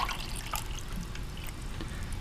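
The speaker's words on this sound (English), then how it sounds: "I'm just going to mix it with some of the hot water I have left over into my cup." Leftover hot water poured into a cup of Aeropress-brewed Costa Rican coffee, a short steady trickle and splash of liquid heard close up with no talking.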